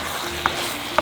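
Turkey pieces sizzle in sauce in a frying pan, a steady close frying hiss with a few brief louder pops and crackles.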